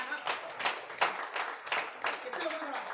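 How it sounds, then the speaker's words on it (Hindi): An audience claps in a rapid, uneven patter of hands at a business seminar, continuing steadily and mixed with a voice talking over it. "सर के लिए ताली बनती है, जबरदस्त ताली बनती है।"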